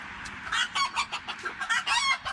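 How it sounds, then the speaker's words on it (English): A backyard hen clucks close by in a quick series of short, choppy clucks and squawks, rising and falling in bursts, with no one speaking. "You're such a good little chicken."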